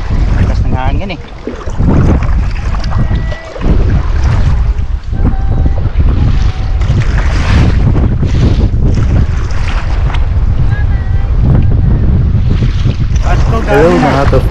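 Strong sea wind roars loudly and steadily across the microphone while kayak fishing for grouper, with waves washing around the boat and someone speaking over the din.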